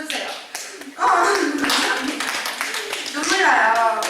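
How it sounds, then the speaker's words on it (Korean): Children and adults at a primary Sunday school church service clap for their teacher, a burst of dense applause starting after a moment and holding steady, loud and close, with brief vocal calls mixed in. "우리 우식쌤 박수 좀 쳐주세요"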